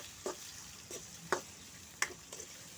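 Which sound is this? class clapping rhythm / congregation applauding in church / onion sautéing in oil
onion sautéing in oil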